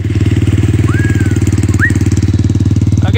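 A pit trike engine runs close by, a loud, steady, fast-pulsing single-cylinder putter at idle-like pace with no clear change in speed, plus a couple of brief high squeaks over it.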